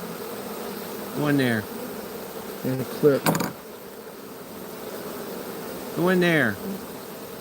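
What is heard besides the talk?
honey bees buzzing in a swarm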